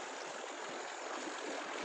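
Fast-flowing river water, swollen after heavy rain, rushes steadily and loudly close by as it is being crossed, an unbroken churning wash with no voices.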